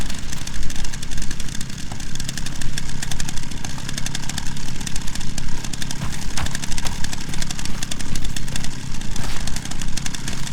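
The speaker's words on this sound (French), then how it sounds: "Ah, je m'attendais pas à autant de tronçonneuses." Chainsaw engine running continuously in the horror game Resident Evil Requiem, a loud buzzing drone with constant revving, with no speech.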